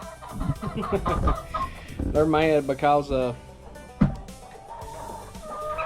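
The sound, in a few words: hens clucking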